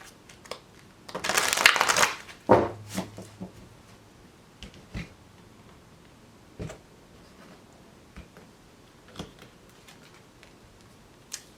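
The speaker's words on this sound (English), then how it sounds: "One more shuffle." Tarot cards are riffled and shuffled in a brief, crisp burst, followed by a few soft taps and scattered light clicks in a quiet room.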